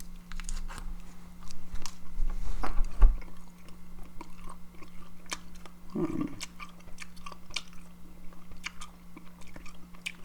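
Gum is chewed very close to a microphone, with soft, moist smacks and clicks repeating in an uneven rhythm over a faint steady hum, and no talking.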